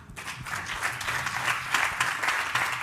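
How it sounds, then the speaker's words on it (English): A room of conference attendees gives a round of applause: dense, lively clapping, fairly close and loud, sustained across the whole stretch with no talk. "can I have a big round of applause from the room?"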